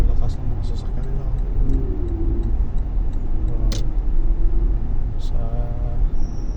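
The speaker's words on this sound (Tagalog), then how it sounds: "Ang lakas ng mga sasakyan nila" Vehicles drive along a road, producing a loud continuous engine rumble and road noise with occasional higher whines and clicks, steady throughout.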